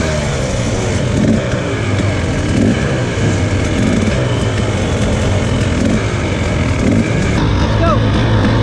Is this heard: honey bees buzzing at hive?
no